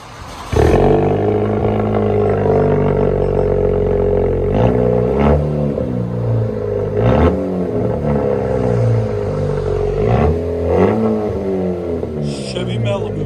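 A Chevy Malibu turbo 4-cylinder with a Corvette-style quad-tip exhaust and muffler delete, idling and revving in repeated swells, loud and close with a deep droning tone and people talking.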